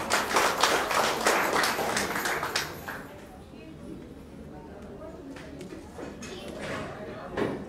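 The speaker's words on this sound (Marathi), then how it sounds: "जोरदार टाळ्या एकदा तुमच्या" At a Hindi and Marathi song mash-up concert, the audience claps loudly for a few seconds and then fades out. Scattered claps return near the end while someone speaks.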